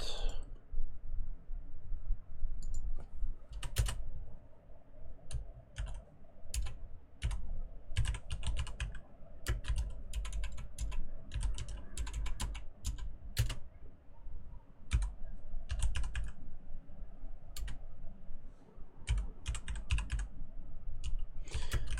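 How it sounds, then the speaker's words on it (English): Keys clatter on a computer keyboard in steady bursts of close, crisp clicks with brief pauses between runs, continuing for over twenty seconds with faint background hum. "And just typing up more tags."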